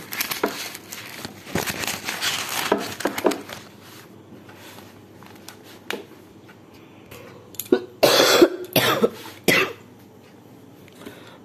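Several coughs and throat-clearing bursts from one person at close range, some in quick clusters early on and a louder pair near the end, with quiet gaps between.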